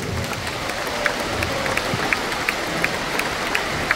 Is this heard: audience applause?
yes